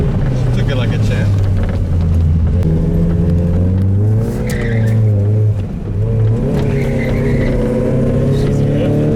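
A Mazda Miata engine with a welded crankshaft revving hard to high RPM, a loud steady close droning roar whose pitch rises and falls, with people talking over it.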